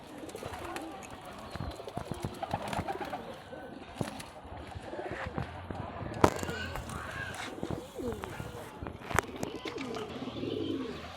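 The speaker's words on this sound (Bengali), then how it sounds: "এই আর এক জোড়া কবুতর দেখাচ্ছি আপনাদেরকে।" Geribaj pigeons cooing nearby, soft repeated low coos among scattered clicks, rustles and brief bird calls, with faint background activity.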